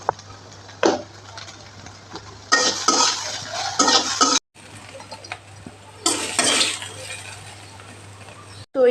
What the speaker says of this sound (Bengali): এবার নামানোর আগে সামান্য একটু চিনি দিয়ে আর একটু ভাজবো